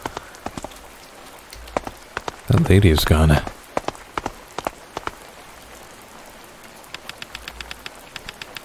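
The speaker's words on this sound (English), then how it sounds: "The rain is getting heavier." Rain in the video game A Space for the Unbound falls steadily as soft patter with scattered distinct drip ticks, and a short voice speaks partway through.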